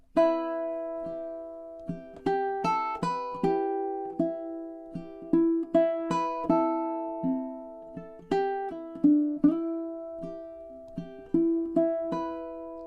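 Solo ukulele picking the next four measures of the folk tune Wayfaring Stranger, with clear plucked notes and ringing chords at a slow, steady tempo, close and alone with no voice.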